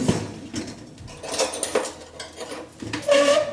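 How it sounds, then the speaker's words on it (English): Garlic cloves being mashed with a kitchen knife in a home kitchen, a series of close, irregular taps and scraping knocks of the blade pressing on a board, with clinking utensil sounds. "I mash it like that to release more of the oils and release more of the delicious flavor of it."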